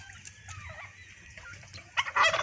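Poultry calls near and far, ending in a loud, rapid, warbling gobble from a turkey close by.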